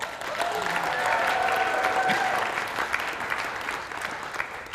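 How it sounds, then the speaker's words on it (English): An audience at a state child welfare services event gives warm, sustained applause, a steady bed of clapping that slowly thins toward the end with faint voices mixed in. "So I want you all to give the Chief of Staff, Virginia Pryor, a warm and welcome applause."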